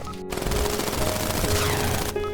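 Rapid automatic gunfire from a video game, a loud, dense burst running almost continuously for about two seconds, with a brief gap near the start and a quieter tail at the end.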